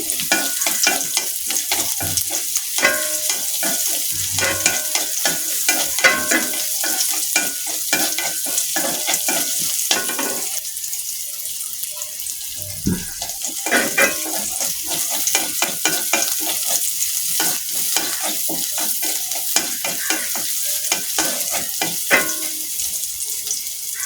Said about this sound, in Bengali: পেঁয়াজ কুচিটা আমার লাল লাল হয়ে ভাজা হয়েছে